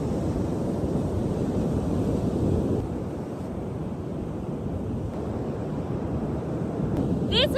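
Surf rolls in at a beach in a steady, broad wash, with wind buffeting the microphone throughout and a brief crackle right at the end.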